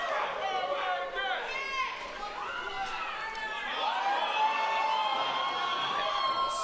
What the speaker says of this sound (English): the crowd is quacking